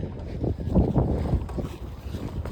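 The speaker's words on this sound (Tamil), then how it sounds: "இதுதான் ஆர்பார் விட்டு வெளியேறப்படுது போட்டு" RC model fishing trawler boat heading out across open water, a steady low rumble of motor and water wash with gusty wind noise on the microphone, close and continuous.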